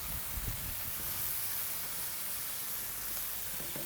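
Beans hit a hot griddle and set off a loud, steady hiss of sizzling that stays close and constant from start to finish, with faint clinks near the end.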